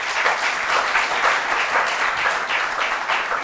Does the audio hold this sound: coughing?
no